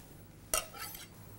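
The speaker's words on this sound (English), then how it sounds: "So we just stir all of that up together, and we'll just brown it off in the frying pan." A spoon scrapes and clinks once against a bowl while stirring a herby garlic vegan cheese mixture, a single sharp knock followed by a brief soft scraping, quiet and close.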